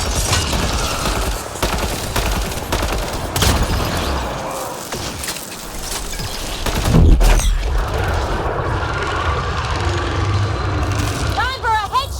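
Rapid gunfire bursts in the sci-fi shooter Mass Effect Andromeda, dense and loud through the first seven seconds with a heavy thump, then a quieter rumbling battle with game voices mixed in.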